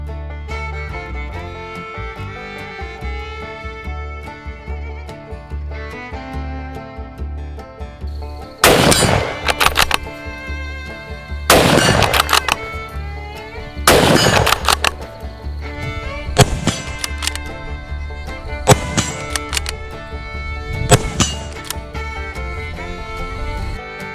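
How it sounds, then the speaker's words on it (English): Benelli Lupo .308 bolt-action rifle fired during accuracy testing at 100 yards, several sharp, loud gunshots spaced a few seconds apart over background music. "Three shots into half an inch at 100 yards."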